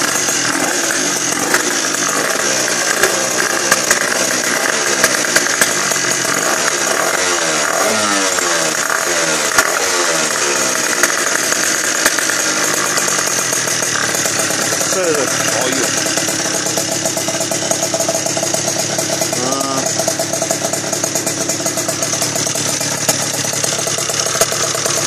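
A 77cc big bore engine, likely on a small motorbike or scooter, runs at its first start with a loud, buzzy, continuous rasp and revving swells throughout, close by, with voices faintly under it.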